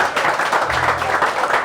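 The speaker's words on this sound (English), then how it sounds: "Give her a big round of applause," Clapping from an audience at a women-in-farming awards presentation held at the National Ploughing Championships, a continuous wash of applause, fairly loud and close, with some faint voices mixed underneath.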